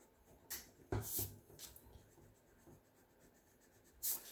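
A pencil line is erased on paper during a drawing session, heard as a few short, soft rubbing scrapes with quiet gaps between them, close and faint.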